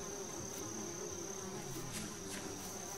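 Flies buzzing in the game Yuppie Psycho, a constant insect drone with a steady high whine and a few brief louder passes, no talking.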